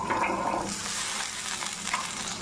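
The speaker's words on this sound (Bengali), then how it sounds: "এবার 5 মিনিট একটু ভেজে নেব সবজিগুলো, এরকমভাবে সাঁতলে নিচ্ছি।" Cut drumstick (sajna) pieces fry in a pan with salt, turmeric and Kashmiri red chilli powder, giving a steady close sizzle and soft stirring scrapes throughout, with no talk.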